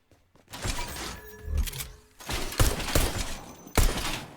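Gunfire in a Fortnite shooting gallery, a run of sharp shots and quick bursts with brief gaps between them, moderately loud, with no talking.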